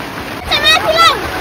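Heavy rainwater pours and splashes during a downpour while a person scoops it out of a flooding home, loud and close, with brief bursts of someone talking over the flow.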